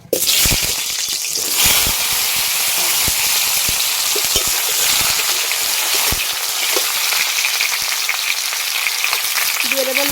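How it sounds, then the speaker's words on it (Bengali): Two large potatoes cut into cubes fry in hot oil in a pan. A loud, steady sizzle runs throughout, broken by scattered clicks and scrapes as the pieces are turned and stirred. "এই আলুগুলো আমি এখন ভেজে নেব।"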